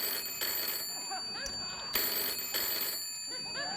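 A telephone bell rings in a studio during a late-night talk show, with repeated broadband bursts in a steady ring-pause rhythm and talk layered in between.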